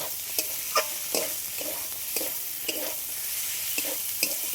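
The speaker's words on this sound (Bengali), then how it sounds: "কেটে রাখা মাংসটা আমি দিয়ে দেব। দিয়ে এইভাবে একটু মিক্স করে নিয়ে আর ঢাকা দিয়ে দেব।" Cut chicken pieces sizzle and fry steadily in a hot oiled pan, with a spoon scraping and stirring through them in repeated strokes about every half second, close and moderately loud.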